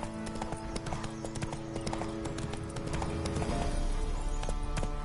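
Geralt's horse Roach galloping in The Witcher 3, rapid steady hoofbeats with a rhythmic clip-clop drive, close and continuous throughout with game ambience underneath.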